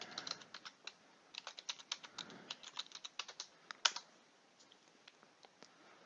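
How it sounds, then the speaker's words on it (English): Rapid clicking keystrokes on a computer keyboard as a username is typed, close and alone, in quick irregular bursts with a few brief pauses and one sharper click near the middle. "type in the username"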